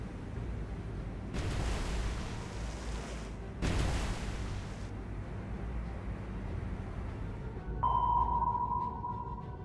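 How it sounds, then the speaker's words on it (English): Depth charges detonate underwater in the naval combat game War on the Sea: two heavy, rumbling blasts a couple of seconds apart, each swelling and fading, followed by a steady sonar ping tone near the end. "Depth charges in the water."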